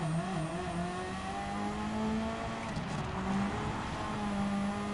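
Turbocharged engine of the Suzuki Escudo Pike Speed Special rally car in Gran Turismo 7 on the Eye of the Eiger challenge, a steady droning tone shifting pitch as revs change, held at high RPM throughout.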